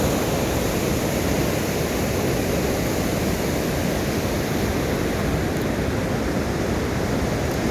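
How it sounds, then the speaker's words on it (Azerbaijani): River water spills steadily over concrete filters placed beneath a bridge, forming a mini waterfall: a constant, dense roar with no breaks, fairly loud, close and alone. "Körpünün dibin çay, sel oymasın deyə beton filtreler qoyublar. Burada mini bir şəlalə yaradıb"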